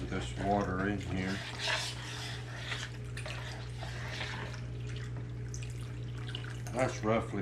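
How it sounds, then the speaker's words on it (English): Water pours into a container holding powdery pickling lime, a steady splashing trickle running for several seconds, with a person talking at the start and end. "I'm gonna just pour the rest of this water in here."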